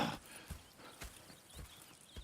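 Horses in the video game Red Dead Redemption 2 clop along at a walk, with faint regular hoof beats about every half second and a quiet snort near the start.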